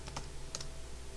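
Typing on a computer keyboard, a few faint, sparse key clicks over a steady low hum.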